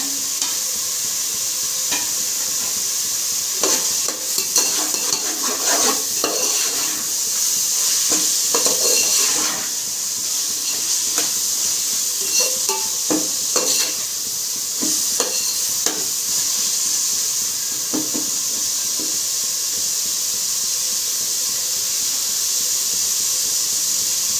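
Tomatoes sizzle in a hot pan for coconut rice while a spoon stirs them, a continuous frying hiss punctuated by repeated scraping strokes and clinks, close and fairly loud with no talking.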